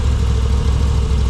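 A Moto Guzzi V85TT motorcycle engine runs at a steady idle, a close, loud low rumble with an even pulsing throb and no voices.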